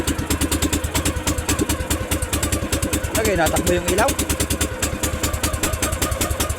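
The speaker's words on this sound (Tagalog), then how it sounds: "Ngayon lang ulit umandar yung makina natin." A small engine, likely a motorcycle, idles with a steady chugging pulse close by, with people talking over it throughout.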